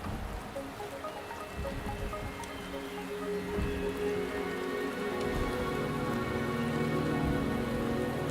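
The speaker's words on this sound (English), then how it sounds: "The rain is subsiding." Steady rain falls throughout a scene in the video game Wuthering Waves, a dense patter of drops on surfaces that grows slightly louder partway through, with a low ambient game soundscape beneath and no talking.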